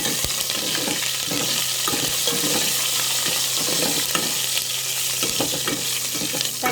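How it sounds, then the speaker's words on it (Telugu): A tempering of garlic cloves, curry leaves and turmeric sizzling in a pan for Andhra-style tomato dal: steady, loud, close frying hiss with faint crackles and stirring throughout, no voices. "పోపు చక్కగా వేసుకోవాలి"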